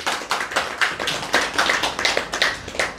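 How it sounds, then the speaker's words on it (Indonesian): A small audience at an Indonesian religious lecture claps in a quick, fairly even rhythm, with about a dozen sharp claps over a few seconds at moderate volume. "Tepuk tangan dong."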